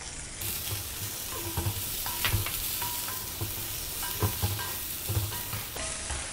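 Coconut and softened tomatoes sauté in a pan as a steady moderate sizzle, with repeated scraping stirs of a spatula across the pan through the whole stretch.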